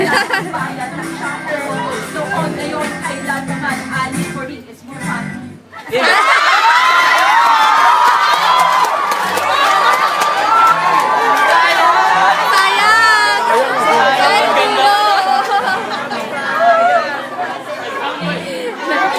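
A loud crowd, including children's voices, shouts and cheers during a competition. The noise dips briefly for a moment, then surges back into a sustained roar of excited chatter and whoops.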